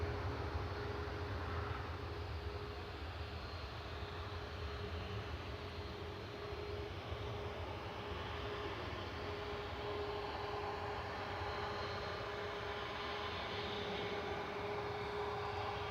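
An Iberia airliner touching down at Manchester Airport, a distant, even roar of engines on reverse thrust that holds steady throughout under broadband hiss, with no talk.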